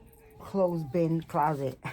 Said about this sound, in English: That's my dog, if you hear her.